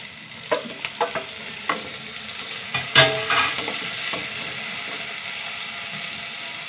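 Tomato and onions sauté in a hot pan, a soft continuous sizzle with a run of quick scraping stirs and clinks early on, then a steadier fry as the stirring stops.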